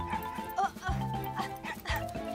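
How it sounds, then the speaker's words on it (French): A cartoon dog barks twice, sharp and close, with whimpering, yippy sounds between the barks and over a background of music. "c'est le chien de ma tante Phyllis"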